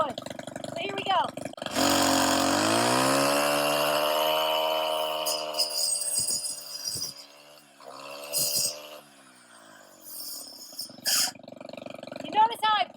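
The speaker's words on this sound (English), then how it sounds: "So I want to get up to full rev, that's full throttle before I enter the woods." A brushcutter revs up to full throttle with a loud, rising engine whine that holds steady, then bogs and cuts intermittently as the blade bites into tree of heaven wood, with a few sharp pauses.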